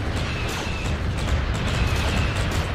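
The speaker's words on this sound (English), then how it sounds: "Bombardment incoming." Video game bombardment after a turret is built, a dense, continuous roar of overlapping explosions and bursts, loud and steady throughout with no clear pauses.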